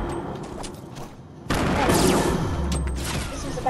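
A grenade blast in the video game Fortnite, with a sudden loud burst cutting in midway and sustained rumbling, crackling debris and gunfire-like noise over the rest.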